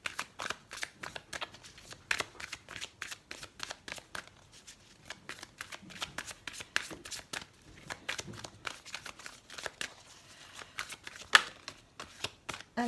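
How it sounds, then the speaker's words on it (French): Heart-chakra oracle cards are shuffled and drawn in a quiet room: a long run of quick, papery riffling bursts and soft card slaps repeats at close range, with no speech. "On va tirer quelques cartes pour le domaine sentimental avec l'oracle des chakras du cœur."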